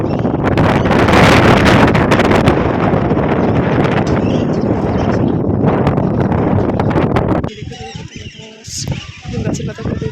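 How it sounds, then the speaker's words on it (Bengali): Sudden strong stormy wind in a rural village with wheat harvest cut in the fields, gusts buffeting the microphone loudly and rustling trees before easing near the end, with talk in the background. "হঠাৎ করে এত ঝড় বৃষ্টি, মানে ঝড় হাওয়া, একদম প্রচণ্ড হাওয়া।"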